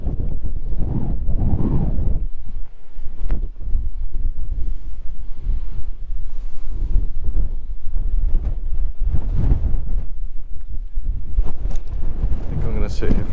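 Strong outdoor wind rumbles and buffets the microphone in uneven gusts that swell and fade throughout, loud and close.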